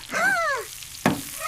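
Cartoon vegetables sizzle in a pan, a steady frying hiss with a bright sweeping tone over it and a sharp accent near the end, heard alone.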